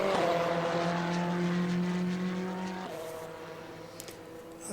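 A Ferrari 488 GTE race car in rFactor 2 revs loudly with a sustained, harmonically rich engine note that drops in pitch as it shifts, then carries on slightly quieter.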